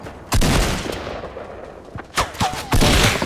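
Loud automatic gunfire from a video game shooter cracks in heavy bursts, with a sharp volley at the start and more bursts near the end over a dense, booming background.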